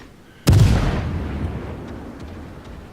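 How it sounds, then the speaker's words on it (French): Single warship turret salvo in World of Warships fired from the forward turret, a sudden loud boom with a deep rumbling tail that slowly fades over a couple of seconds. "Et je vais commencer à tirer, mais uniquement avec ma première tourelle"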